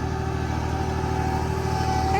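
A tractor engine drones steadily at a constant idle-like pitch while pulling a chicken tractor, loud and close, with no clear change in revs over the couple of seconds.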